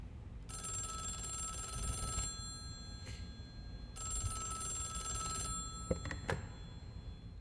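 A telephone bell rings in a radio drama, two long ringing bursts separated by a pause, followed by a couple of sharp knocks as the receiver is picked up; clear and close with no talk.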